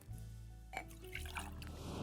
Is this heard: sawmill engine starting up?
no